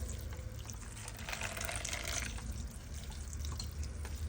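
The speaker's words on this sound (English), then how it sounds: "I am going to pour some water in the shredded coconut" Water is poured into freshly grated coconut, a steady close splashing and trickling stream that swells in the middle and continues without talk.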